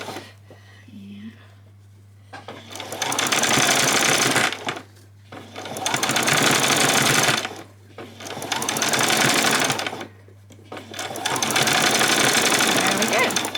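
Sewing machine stitching ruffles onto a spring outfit, running in four long, loud bursts separated by short pauses, with a steady hum and soft handling noises in between.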